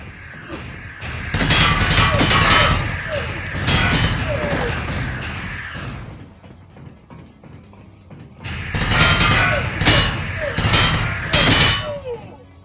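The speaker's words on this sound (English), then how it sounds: "Nope, nope, there's gunshots." Bursts of rapid gunfire in the video game Dark Raid crackle loudly in two long volleys, separated by a quieter pause with clanking mechanical sounds.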